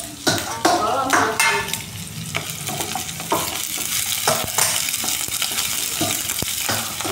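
Chopped onion, garlic, ginger and green chili sizzle in a hot pan with repeated scraping strokes of a spatula, a busy close frying crackle throughout.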